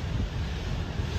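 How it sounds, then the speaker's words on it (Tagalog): Strong storm wind from Typhoon Uwan roars steadily and loudly across an exposed rural hut area, buffeting the microphone with heavy low rumble and continuous gusty noise throughout, with no talk. "Grabe lakas talaga ang hangin"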